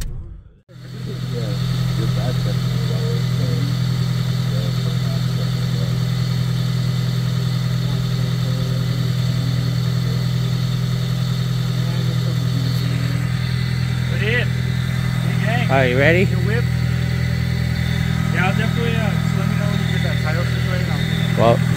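A Honda Civic EG coupe's engine catches after a brief start and settles into a steady, close, droning idle with a deep hum. People talk intermittently over the running engine.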